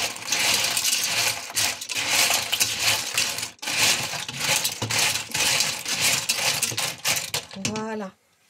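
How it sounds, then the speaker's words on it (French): Shellfish stirred in a pot with a wooden spoon, a dense clattering rattle of shells knocking together in continuous churning bursts with brief pauses, ending in a short clink and a voice. "Ici, je vais prendre ma cuillère de bois. Et je vais brasser."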